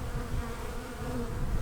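Honey bees buzz steadily inside an opened hive during an early-season check, a dense, continuous close hum with no voices.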